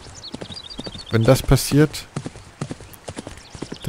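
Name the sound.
horse hooves clip-clop while riding, from video game Die Pferdebande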